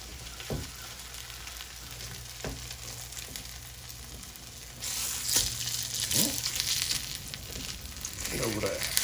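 Southern hot water cornbread sizzles and crackles steadily in hot frying oil, with a few clanks and scrapes as the pieces are flipped in the pan, and the frying grows louder midway.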